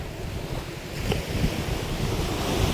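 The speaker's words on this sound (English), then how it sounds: "Listen to these waves." Ocean waves surge and wash continuously against the shore, loud and close, with gusty wind buffeting the microphone throughout.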